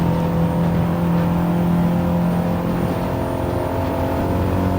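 A race car in Gran Turismo 7 at Willow Springs holds a steady, loud engine drone at near-constant pitch, a sustained mechanical hum with no talking.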